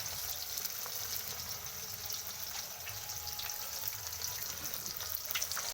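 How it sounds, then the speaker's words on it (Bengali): Pieces of Rui fish fry in hot oil with a continuous, dense sizzle and crackle, fairly even in level and heard alone for several seconds before cutting off abruptly. "আমি ভাজতে দিয়ে দিয়েছি।"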